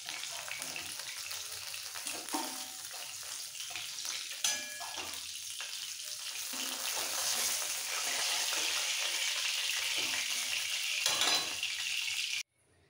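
Pomfret fish frying crisp in hot oil, a continuous moderate sizzle and crackle that swells louder midway, with a few soft clinks before cutting off abruptly.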